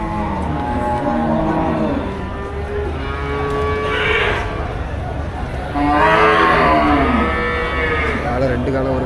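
Jersey cattle low repeatedly at the Melapalayam cattle market, with several drawn-out, fairly close moos over a steady background of market noise.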